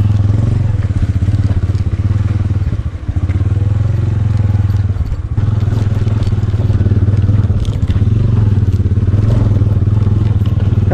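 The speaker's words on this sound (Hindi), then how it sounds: "बाइक हम इजीली हैंडल कर रहे हैं, बड़े सुकून से जा रहे हैं" Motorcycle riding off-road on a rocky mountain track in Naltar Valley, its engine droning loud and steady throughout, with clattering and thumps from the rough ground and a couple of brief dips in the noise.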